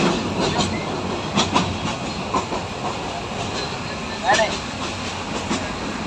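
A passenger train pulling into a station in Sylhet, a steady rumble and clatter of rolling carriages with occasional knocks and a brief squeal, heard from inside amid background chatter.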